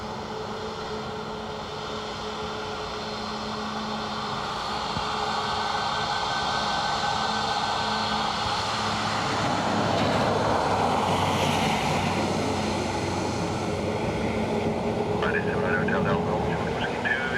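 An airliner arrives at Dublin Airport, its broad roar building gradually and holding loud for several seconds in a windy outdoor setting. Radio voices are heard intermittently.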